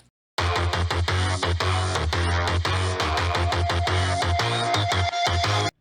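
Cyberpunk-style electronic track with a heavy, chopped bass line locked to punchy drums, steady rhythmic pulses running loud and continuous for several seconds with a brief dropout near the end.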